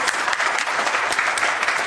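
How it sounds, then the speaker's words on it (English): Dense, continuous applause from an audience at a corporate rewards and recognition trophy presentation, many hands clapping at once in a loud, unbroken wash with no voices standing out. "Okay, that is applause."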